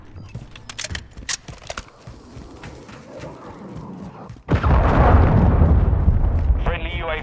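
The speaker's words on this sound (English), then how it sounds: "Friendly cruise missile deployed." A cruise missile explosion in the video game Call of Duty: Modern Warfare II erupts as a sudden loud boom after scattered clicks and shots, then rolls on as a sustained roaring rumble.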